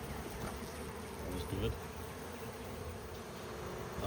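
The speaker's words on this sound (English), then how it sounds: "Bees." Honeybees buzz steadily around a beehive nearby, a continuous droning hum with passing individual bees, while someone briefly speaks over it.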